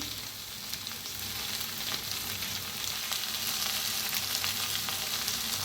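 Maggi masala okra with peanut powder sizzles steadily in a pan as it is stirred, a continuous close frying hiss with soft scraping and no voices.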